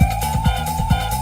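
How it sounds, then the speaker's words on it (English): Sampled sirens from the Japanese Sonic CD video game music wail loudly in a steady tone over pulsing low beats, filling the whole stretch without any voices. "Right away we got sirens."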